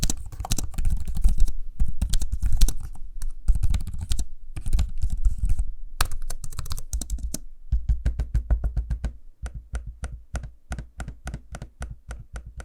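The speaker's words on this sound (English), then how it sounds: "here's a sample of me using the keyboard and trackpad so you can hear what they sound like" Rapid typing on an Alienware m16 R2 laptop keyboard clatters steadily, then gives way to sparse, evenly spaced trackpad clicks.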